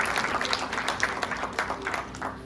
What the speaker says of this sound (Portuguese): Uma salva de palmas para esses lindos.